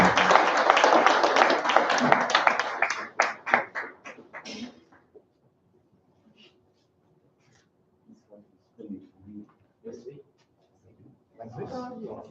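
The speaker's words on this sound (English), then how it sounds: "Please give them another warm round of applause." An audience at a stage event honouring singers and chief guests breaks into a warm round of applause. Dense clapping lasts about four seconds, then thins into scattered claps and near quiet with a few brief voices.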